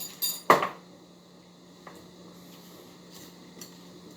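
Clinks and scrapes of stirring a bee bread mixture inside a container, one sharp clatter near the start followed by faint scattered ticks and a low steady hum.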